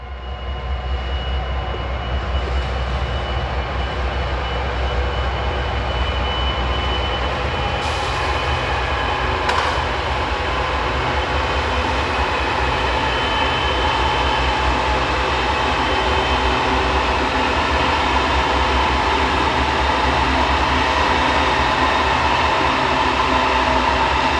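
A Norfolk Southern freight train with a string of empty cars rolls past on the Winston-Salem District, a steady, continuous rumble and wheel noise holding evenly throughout with faint high squeals partway through.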